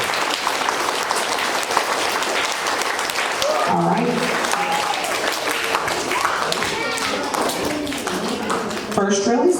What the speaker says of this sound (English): you can start clapping for these kids on AB honor roll